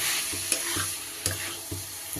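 Soaked rice fries in gravy over high heat for hilsa pulao: a close, constant sizzle with a few sharp spatula scrapes spaced about half a second apart.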